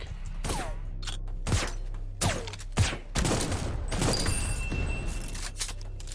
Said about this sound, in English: let's try the sticky grenade